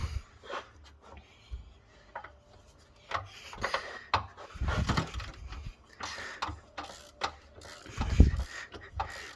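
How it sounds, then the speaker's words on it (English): Small hand ratchet working bolts on the engine of a Jeep XJ during a harmonic balancer replacement, heard as quiet scattered clicks, scrapes and metallic knocks with one sharper clunk near the end, no talking. "sort of only using a little ratchet, so it's just labour intensive"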